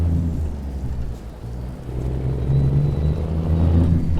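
A heavy truck engine in American Truck Simulator rumbles low and steady, a loud continuous drone with shifting harmonic tones as the revs rise and fall.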